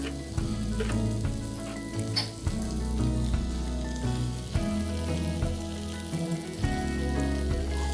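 A cashew vegetable dish with salt, fresh coconut and chopped coriander cooking in a pan over low flame, a steady close sizzle with repeated scraping and stirring strokes.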